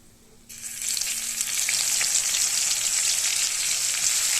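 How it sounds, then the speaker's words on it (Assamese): Onion paste hits hot oil seasoned with two pieces of cinnamon, black pepper and three dry red chillies, setting off a sudden loud sizzle that stays strong and steady, with light crackling throughout. "তাৰপিছত ইয়াতে মই পিঁয়াজৰ বটাখিনি দি দিছোঁ।"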